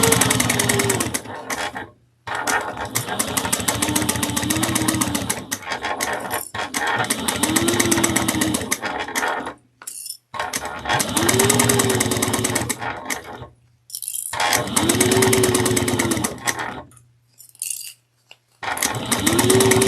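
A sewing machine stitches a crossbody bag 1/8 inch from the edge, back stitching at the start in several steady bursts of rapid mechanical running separated by short pauses.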